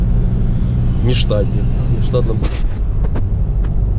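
Car engine and tyre rumble while driving through the streets of Voronezh, a steady low drone from inside the vehicle with people talking over it.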